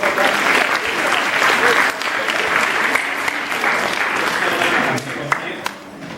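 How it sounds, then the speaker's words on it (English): Loud, dense applause fills a school hall during a winter science show. A crowd claps steadily for about six seconds, with a couple of sharper individual claps and a brief voice near the end. "let's give this guy a round of applause"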